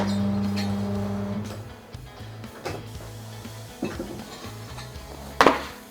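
An Ascenta ATC24T 24-inch tyre fitting machine turns its table to pop a tyre bead off. A steady motor hum runs for the first second or so, then gives way to scattered clunks and knocks, ending in one sharper metallic clank.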